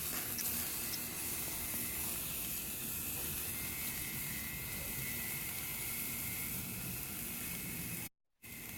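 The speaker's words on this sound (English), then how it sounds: "I went ahead and threw the steaks on the grill." Steaks sizzle on a hot charcoal grill in a steady, even hiss that holds throughout at low volume, then cuts out briefly near the end.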